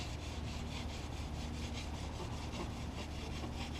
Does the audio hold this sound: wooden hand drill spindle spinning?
yes